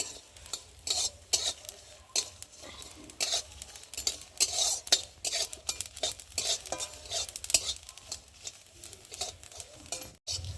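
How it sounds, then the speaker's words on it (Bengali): Garlic and black cumin sizzle in a pan with dried chillies while a utensil scrapes and stirs in uneven rhythmic bursts, close and clear with no talking. "রসুন আর কালো জিরে একটু ভালো করে ভেজে নেব।"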